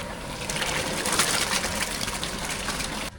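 Water gushing and trickling steadily while rice is washed in a home kitchen, a continuous close splashing pour that cuts off abruptly at the end.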